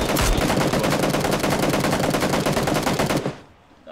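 Loud, close automatic gunfire in PUBG rattles in one continuous rapid burst for about three seconds, then cuts off abruptly.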